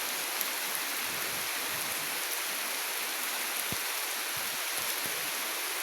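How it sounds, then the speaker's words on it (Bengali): Heavy rain pours steadily, a dense continuous hiss with a few sharper drips and knocks close by, and no voices. "অবস্থা দেখেন, বৃষ্টি আর বৃষ্টি, বৃষ্টির জন্য ঘর থেকে বের হওয়া যায় না।"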